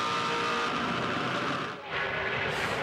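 Supercars race cars scream past at the 2007 Bathurst 1000, a loud, sustained high-revving engine roar with a brief dip before the noise surges back, under excited race commentary.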